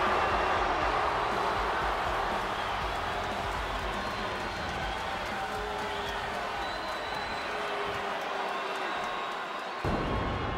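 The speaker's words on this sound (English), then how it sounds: "As the crowd are well and truly behind Ilja Dragunov here tonight" A loud, continuous arena crowd roars and cheers for a wrestler in the WWE 2K24 video game, a dense wash of noise that holds steady throughout and dips briefly near the end.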